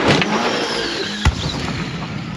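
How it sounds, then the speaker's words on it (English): A Subaru BRZ sports car drifting at a shop: a loud, close engine rev with a sharp bang midway, the roar sustained and shifting in pitch throughout. "it's a freaking drift competition at the shop"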